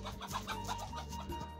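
Small Siruvidai native chickens on a farm near Hosur cluck in short, overlapping bursts, close by and fairly lively.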